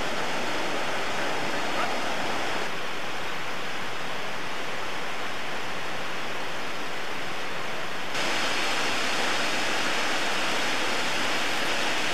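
A Molokai, Hawaii waterfall gives a loud, steady roar of falling water that fills the scene without a break, with a slight shift in tone partway through.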